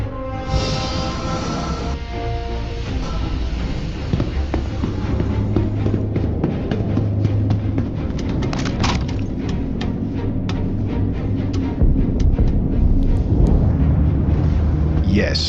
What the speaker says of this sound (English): Yes, that's the sound of the engines going off.